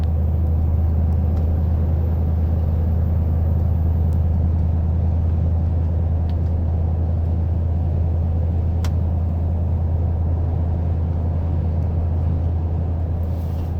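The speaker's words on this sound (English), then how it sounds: "we are cruising at 47 miles an hour in cruise control" A Toyota Tundra on a 6-inch lift cruises steadily on cruise control, giving a constant low road rumble and engine drone with tire noise, unchanging throughout and with no talking.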